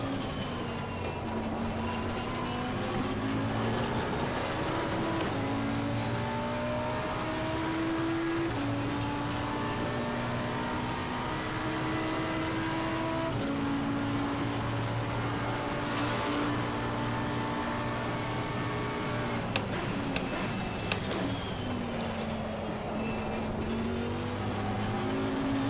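Race car engine in the sim racing game Assetto Corsa Competizione driven hard, a continuous droning roar that rises and falls through gear changes, with the stuttering cut of traction control toward the end and no talking.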